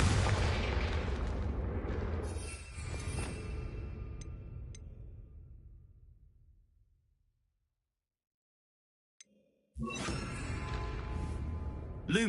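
A Confringo fire spell in Hogwarts Legacy bursts with a loud booming blast that rolls out and fades into silence, then another heavy explosive burst hits near the end.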